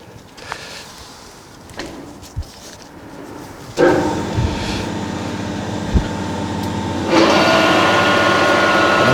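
A workshop lathe in a railway museum engineering shop starts up and runs at 400 RPM, a steady close mechanical hum that grows louder in steps, with a few knocks and clunks of handling along the way.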